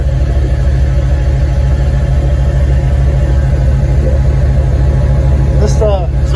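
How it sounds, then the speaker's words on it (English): Crown Victoria engine idling with a steady low rumble and droning exhaust underneath, continuous and fairly loud throughout, with a brief higher clatter near the end. "This exhaust drones really loud when you're driving it"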